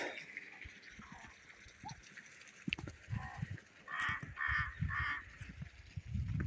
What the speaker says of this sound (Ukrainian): Ворони каркають.